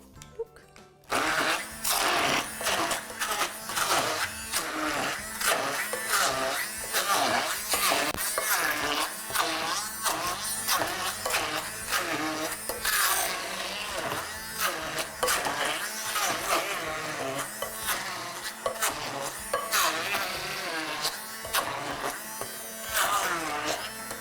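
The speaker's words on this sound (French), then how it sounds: "on va rendre ça en purée d'abord. Avec ma petite machine ici." A small kitchen machine purees yucca with a loud, steady motor whir that runs almost nonstop after a brief start, the pitch shifting slightly as the mash thickens.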